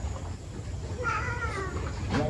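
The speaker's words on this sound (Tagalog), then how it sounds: "Pusa ninyo na yan." A cat meows once, fairly close, over a low rumbling background, with dogs in the household.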